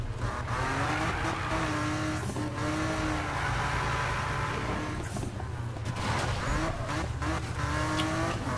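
In the Need for Speed video game, a car drifts with a constant engine roar and shrill, sliding tire squeals that rise and fall through turns, loud and steady the whole time.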